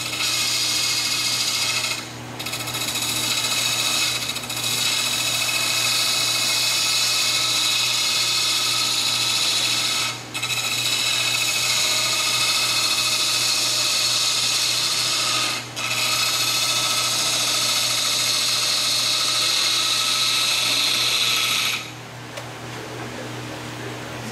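Wood turning on a lathe to make a coin funnel: a loud, continuous whirring hum with steady cutting hiss, broken by a few brief dips, running alone until it winds down near the end.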